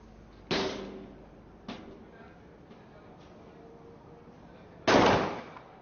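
Gunfire during a SWAT team assault exercise at the UAE SWAT Challenge 2024: a sharp bang, a fainter second shot, then a louder third report a few seconds later, each with a short fading tail.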